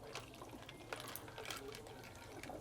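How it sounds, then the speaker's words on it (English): Cranberry margaritas poured through a funnel into bottles, giving a soft, steady liquid trickle and gurgle with small splashy bursts, close and fairly quiet. "So I made some cranberry margaritas. And I'm gonna pour them."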